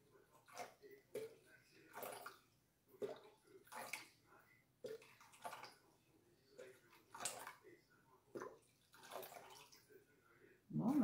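Hot water is poured into a pitcher in a home kitchen in several separate bursts of splashing and gurgling, with quiet gaps between them and a brief clink near the end.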